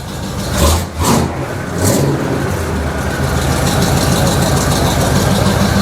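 A 1979 Chevrolet K20 Squarebody truck engine with an added air cleaner, revved up from idle in a few loud, close bursts and then held at a steady, smooth roar.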